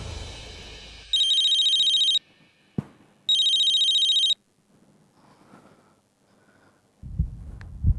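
An electronic phone ringtone chirps in two bursts separated by a short pause, then quiet rustling follows; no talking.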